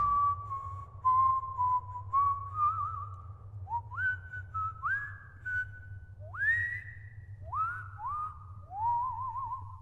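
A melodic whistled tune of rising and sliding notes, played over a steady low hum, moderately quiet and continuous.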